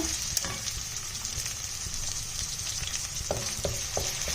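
Finely chopped onions fry in a pan with a steady, close sizzle that holds throughout, with a few sharper crackles and stirring clinks near the end.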